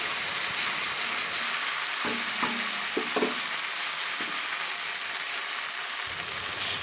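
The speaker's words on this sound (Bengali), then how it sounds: "সেই বাটাটা আমি ওর মধ্যে দিয়ে দেবো তো তেলের মধ্যে দিয়ে দেওয়ার পরে বাটি ধোয়া জলটাও ওর মধ্যে দিয়ে দেবো" Spice paste sputters in hot oil with water added, producing a steady close sizzle broken by a few louder bursts of spitting and crackling around the middle, with no talking.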